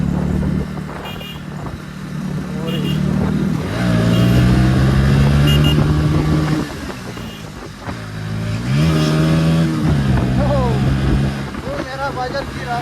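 Motorcycles racing at night, engines rising and falling in repeated revving surges with wind noise, loud and close, with voices talking over the engines.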